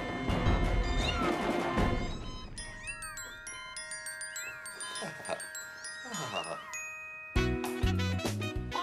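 Several kittens meow in a series of high, rising and falling cries, followed by a burst of bright jingling, chiming sounds.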